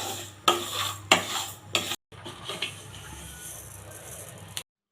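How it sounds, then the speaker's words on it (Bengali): Moong dal is dry-roasted in a pan, with three loud bursts of rattling, scraping stirring followed by a quieter stretch of shuffling grains that stops abruptly, close and without talk. "আমি 300 গ্রাম চালের জন্য 200 গ্রাম মুগের ডাল এইভাবে ভেজে পানিতে খানিক সময় ভিজিয়ে রাখব।"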